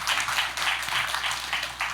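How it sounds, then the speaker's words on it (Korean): Steady applause from a symposium audience on sports-driven tourism, sustained dense clapping for about two seconds at moderate level, with no talk over it. "우리 오정환 회장님께 다시 한 번 더 우리 큰 박수 보내주시기 바랍니다"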